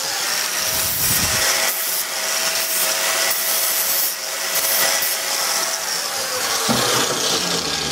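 Deburring metal edges for a Darth Vader fire pit build gives a steady, loud abrasive grinding and rubbing with a faint whine, continuous throughout and close, with no talk.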